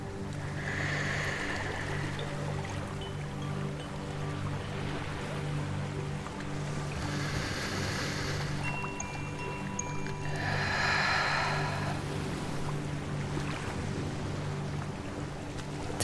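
Gentle waves wash in slow, soft swells around someone's feet in shallow water over muddy sand, a steady low murmur with a few louder surges, faint and calm throughout.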